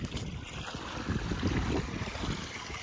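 Spring water gushes quickly into a container, a loud, constant rushing splash that fills the whole moment without any talking.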